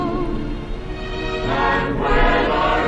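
Old-style 1940s Disney chorus recording, a choir singing in sustained harmony with a vintage, slightly dulled tone, swelling louder in the second half.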